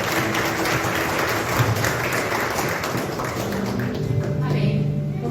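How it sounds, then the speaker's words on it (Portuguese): Church congregation applauding during a Sunday night celebration service, a steady wash of many hands clapping throughout, with music and voices underneath. "Você pode aplaudir a Cristo Jesus."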